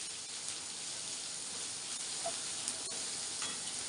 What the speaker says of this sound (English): Saute this onion for a minute.